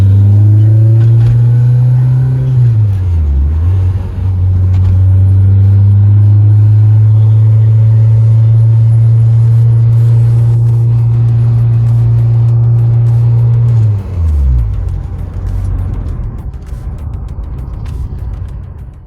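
A K-swapped Honda EK Civic with an Acura RSX shifter is driven, heard as a loud, close engine drone from inside the car. The revs hold steady and dip sharply at two gear changes before settling again.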